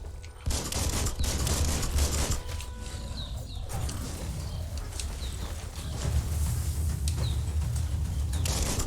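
Rapid gunfire rattles in the action role-playing game Biomutant on hard mode, with dense bursts of shots over a constant loud combat rumble and scattered sharp chirping effects.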